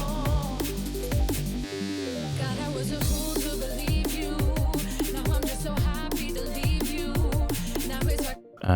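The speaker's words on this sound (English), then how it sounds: "So the sub bass run for this sounds like this." A deep sub bass run from a drum and bass remix plays alone, with sliding low notes under a dense beat of punchy hits and chopped elements, briefly dropping out near the end.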